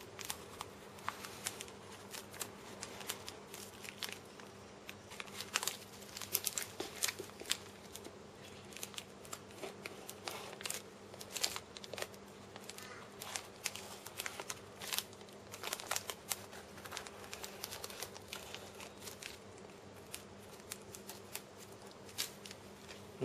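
Covering film on a balsa model aircraft wing being trimmed close to the edge, heard as a long run of soft, close crinkling and fine cutting snips in an irregular, continuous patter, no talk.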